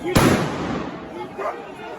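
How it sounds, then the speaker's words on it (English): Fireworks go off at a street protest: a sharp loud bang at the start, then a fainter burst and crackle about a second later over steady crowd and street noise. "Laying off fireworks."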